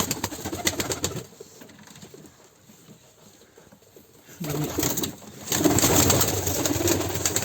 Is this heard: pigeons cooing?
yes